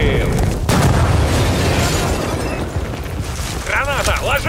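A grenade explodes in the Xbox One S shooter Battlefield: Bad Company 2 with a loud, sustained boom and rumbling debris that fills the whole stretch, then a brief voice cuts in near the end.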